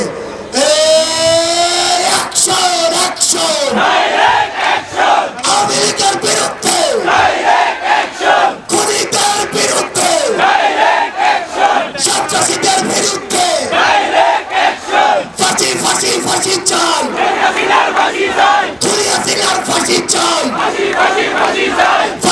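A large crowd at a political rally at Baitul Mukarram in Dhaka chants slogans in loud, rhythmic call-and-response bursts, with a lead voice shouting and many voices answering together.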